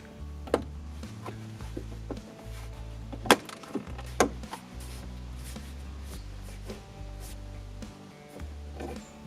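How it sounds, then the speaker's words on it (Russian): Scattered sharp plastic clicks and snaps as plastic trim clips are pressed into place inside a Renault Logan car, over a low steady hum, irregular and close, with a few louder cracks standing out. "Аккуратно защелкиваем клипсы."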